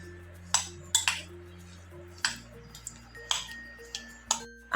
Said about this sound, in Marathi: व्यवस्थित मिक्स करून घ्यायचंय.